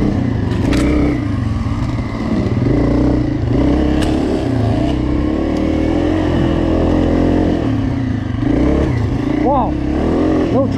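A dirt bike engine roars loud and close throughout on a dusty trail ride, holding a steady rumble with brief rises in pitch as the rider hunts for the right gear.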